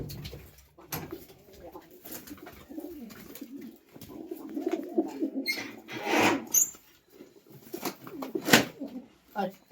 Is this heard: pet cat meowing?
no